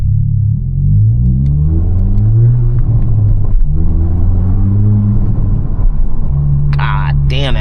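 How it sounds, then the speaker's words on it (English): Turbocharged engine of a 2022 Honda Civic Si droning loud and steady from inside the car, with rising and falling rumble as it pulls, a brief sharp whine near the end. "I'm trying to hear that turbo"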